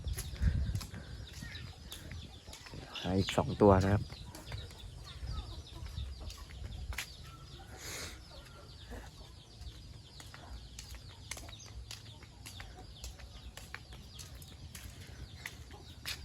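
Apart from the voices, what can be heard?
young Burmese fighting roosters being caught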